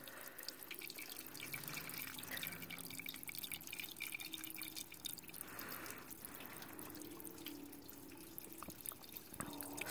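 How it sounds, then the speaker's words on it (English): A mini modern Kohler Dexter toilet flushes faintly, with trickling, dripping water running quietly throughout and no voices. "Let's see if I can get it one more good flush out of it."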